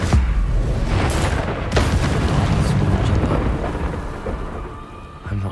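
An Incendio fire spell cast in the video game Hogwarts Legacy: a loud booming burst with crackling rumble, a second sharp blast partway through, then a fading roar.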